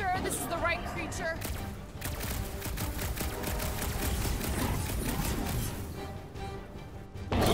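Sustained rapid gunfire in Marvel's Guardians of the Galaxy, dense rattling shots over a busy combat soundscape lasting several seconds, with brief voices from game characters at the start and end.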